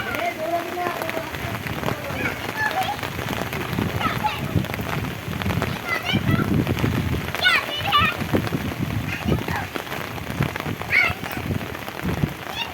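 Steady rain pours down throughout, pattering on surfaces close by, while children's voices and adult talk rise over it along with the scuffle of running feet.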